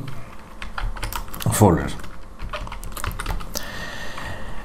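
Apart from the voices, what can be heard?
typing on a computer keyboard to name a file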